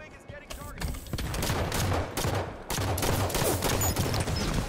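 Loud, dense barrage of rapid blasts and crackling fire from rockets in a video game, continuous and close, with faint voices mixed in.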